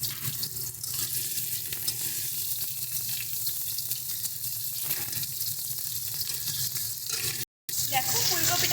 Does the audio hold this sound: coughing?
no